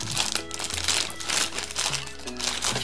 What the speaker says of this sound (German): Nehmen wir es einmal aus der Folie raus.